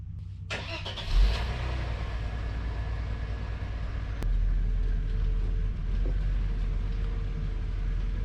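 A 1995 Audi A6 Avant Quattro with a 2.8 V6 and over 300,000 miles, leaking oil, idles low and steady as it is driven off a trailer, with a brief clunk early and a deeper engine rumble toward the end.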